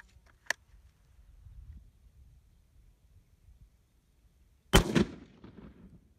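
Two sharp gunshots from a rifle firing surplus Italian 8mm ammunition: a faint crack early on, then a loud, close report with a short rumbling tail, with quiet outdoor background between them.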